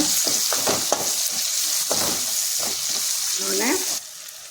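Steady loud sizzling of tomatoes sautéing in a pan for pepper chicken gravy, with a utensil scraping and stirring, and a voice briefly talking over it.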